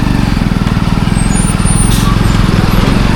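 A green bus pulling in at a bus stand, its engine a loud, close, steady low rumble with a pulsing throb throughout.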